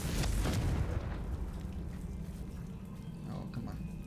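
A fire spell explosion in the video game Hogwarts Legacy: a loud, booming blast that opens the clip and then decays into a rumbling crackle for several seconds, heard alone.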